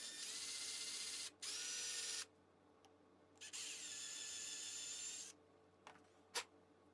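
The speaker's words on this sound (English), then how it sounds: "Hopefully I'll be able to drill a straight hole in the middle" A drill whirs in two long bursts with a brief pause between, close and loud, drilling a hole into wood, followed by a few small clicks and knocks.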